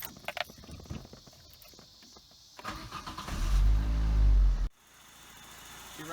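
A 1995 Saturn SL1 four-cylinder engine, just fitted with new spark plugs, cranks with a brief whir, then fires and revs loudly up close before settling into a steady idle.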